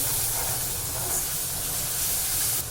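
Ground masala paste sizzling in hot oil for a green chickpea curry, a loud, dense, steady hiss like steam that fills the whole short stretch with no speech.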